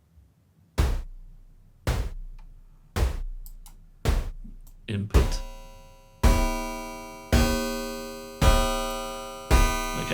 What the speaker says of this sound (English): that just sounds like a grandfather clock